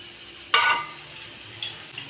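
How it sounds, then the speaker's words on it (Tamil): Cooking oil hits a hot, preheated pan with a sudden short sizzle that flares loudly and dies away within a moment, followed by a few faint crackles in a quiet kitchen. "சட்டி காஞ்சிருச்சு, எண்ணெயை ஊற்றிக்கலாம்."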